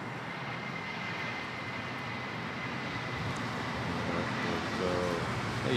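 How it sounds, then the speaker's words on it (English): An Asiana Airbus A330 taking off from Manila Airport, bound for Seoul, heard as a steady distant jet engine roar that swells slightly toward the end, with no speech. "Asiana A330 off to Seoul, South Korea. Nice. Also a buttery smooth takeoff."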